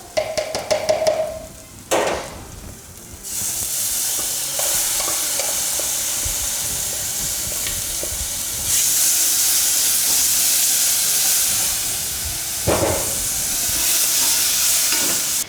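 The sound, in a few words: tomatoes added and frying in a pan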